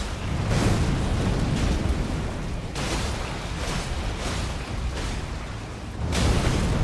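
A video game explosion roars as a dense, sustained rumble with a few swelling bursts, loud and close throughout with no voices.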